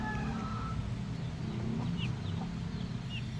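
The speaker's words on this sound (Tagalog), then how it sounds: "Ito may mga manok dyan." Chickens, hens kept together with a rooster, cluck softly in short scattered calls over a steady low background rumble, with no talking.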